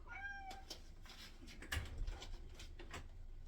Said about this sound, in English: my cat was knocking